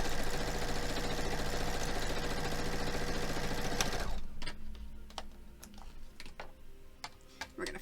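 A sewing machine stitches a quilt block, a fast steady mechanical whirr that runs for about four seconds and then stops, followed by scattered clicks and handling sounds.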